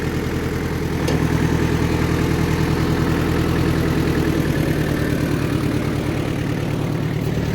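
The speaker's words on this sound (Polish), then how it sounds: "Pierwsza kultywacja traktorem." A low, steady tractor engine idles with a continuous rumble and rapid rhythmic chugging, close by and unchanging throughout.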